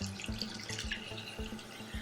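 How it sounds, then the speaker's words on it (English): Tap water runs steadily into a pot for lobster bisque broth, a continuous splashing stream with small rhythmic glugs, close and alone without talk. "So we're gonna add our water."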